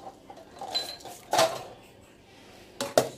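Pots, pans and utensils clatter in a home kitchen while a wok is swapped in during cooking of fried chicken with onion, two sharp metallic clanks standing out near the start and end of a quiet stretch.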